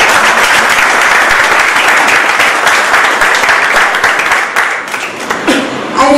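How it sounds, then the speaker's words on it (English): A convocation audience in Mumbai applauds loudly, the dense, steady clapping thinning and fading slightly toward the end as a voice begins. "A big round of applause"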